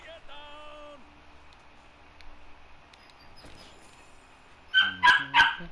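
Dog barking and whimpering in a video game, a few sharp close barks near the end after a stretch of quieter whines and game sounds.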